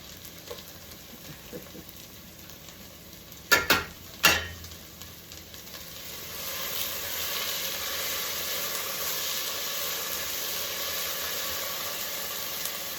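Garlic hitting hot oil in a soup pot for broccoli cheddar soup, a few sharp clatters of it going in, then a steady, loud sizzle that keeps going with no talk.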